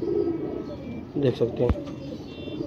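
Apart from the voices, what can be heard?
pigeon cooing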